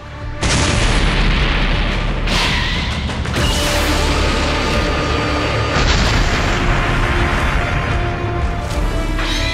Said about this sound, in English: Upon his ki blast colliding and exploding with his adversary, Tapion calls out for Trunks to stop